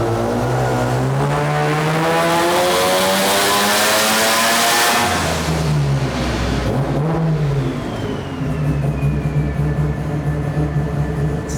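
A boosted Mazda rotary engine is revved hard during tuning, climbing loudly to a high buzzing wail, dropping off, then holding a steady raspy drone up close with no talk.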